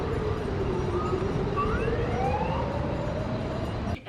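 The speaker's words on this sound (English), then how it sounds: "the sirens, at least in the part of Tel Aviv that we're in, are very, very faint and you can barely hear them" Air raid sirens heard across Tel Aviv during rocket attacks, a faint, distant wailing tone rising and falling steadily over a constant background hiss.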